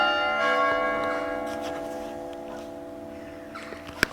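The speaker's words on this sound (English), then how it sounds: "And that's the bells." Church bells ring at 7:30 in the evening, a single rich bell tone swelling then slowly fading away, heard clearly from a moderate distance with a brief small knock near the end.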